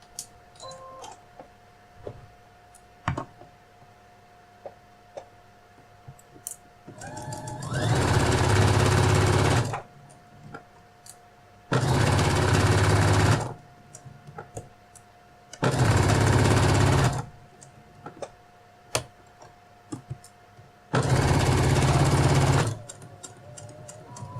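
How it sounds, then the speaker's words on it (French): A sewing machine topstitches one to two millimetres from the edge of a ribbon on a phone case, running in four steady buzzing bursts of several seconds each, separated by quieter pauses with small handling clicks. "Donc je fais une surpiqûre à 1 mm, 1 ou 2 mm du bord du ruban pour bien tout fixer."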